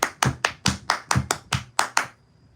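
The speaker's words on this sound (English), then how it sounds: "Everybody clap your hand." About nine sharp hand claps land close and loud in an even, steady beat, each ringing out briefly before the next, then stop, leaving quiet.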